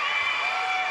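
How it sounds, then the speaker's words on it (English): Crowd at a girls' high school basketball semifinal cheering for a fan-favourite player, a brief, dense roar of voices heard alone at a moderate level. "And you hear the crowd."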